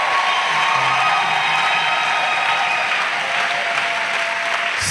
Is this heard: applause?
yes